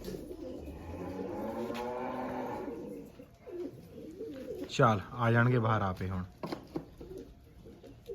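Pigeons caught in a net give low soft coos and throaty calls, close by, while someone talks over them in between.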